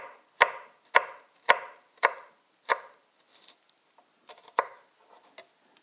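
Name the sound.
chopping shallots finely with a knife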